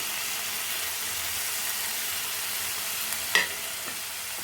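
Tomatoes frying with garlic in a pan, a steady soft sizzle and hiss throughout with a brief louder scrape or stir near the end.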